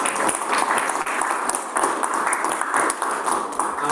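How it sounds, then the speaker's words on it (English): An audience at an investment talk gives a steady round of applause, a dense crackle of many hands clapping at even loudness throughout. "Massive round of applause."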